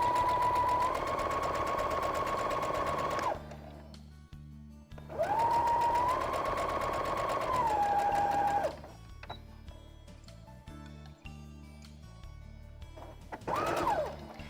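Sewing machine stitching a small fabric bag for a girl, two long steady runs of motor whir separated by quiet handling and faint clicks, with a brief final burst near the end.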